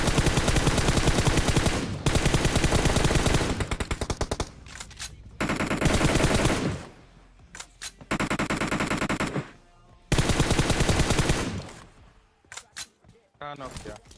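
Rapid automatic gunfire from a fight in the video game Free Fire, with loud dense bursts cut by short pauses. The shooting comes close and in full volleys, fading to scattered shots near the end.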